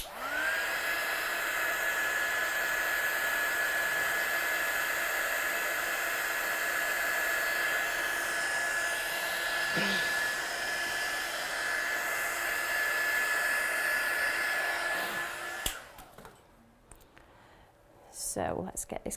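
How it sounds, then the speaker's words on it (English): A hair dryer blows steadily up close to dry freshly stamped ink, a continuous whirring hiss with a high whine that runs for about fifteen seconds before switching off, followed by faint handling noises. "Now I'm just going to quickly dry that one off again."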